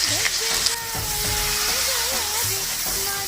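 Steady sizzling of ginger-garlic paste frying in hot oil in a wok, with music playing throughout over the broad hiss.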